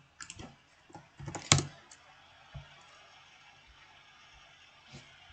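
Someone types on a computer keyboard while a terminal sets up, giving a few scattered clicks and a quick cluster of keystrokes, close and fairly quiet, then mostly stillness with one last tap.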